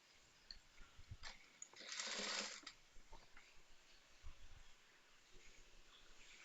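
A sewing machine stitching cloth while sewing a small pin cushion, with a short fast burst of stitching near the middle and quieter handling and clicks around it, close by and with no talk.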